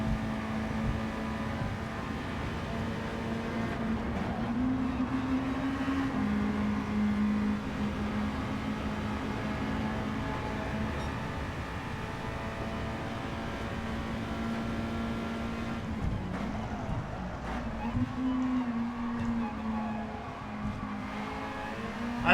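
Race cars at speed on a Tokyo course in Gran Turismo 7, a steady loud engine drone with shifting pitch, brief tire squeals and gear changes over twenty-odd seconds, no talk.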